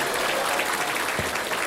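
Applause from a seminar audience: a dense, steady patter of many hands clapping at once, sustained and fairly loud for a brief moment.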